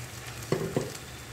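Tomato and coconut paste frying in a pan for a Tamil drumstick curry gives a steady soft sizzle, broken by two quick scraping stirs close by.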